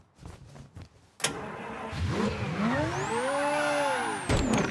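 A car engine in the Mafia 3 video game cranks over and catches, rising into a steady idle with a revving whine sweeping up and down, close and loud with no talk over it.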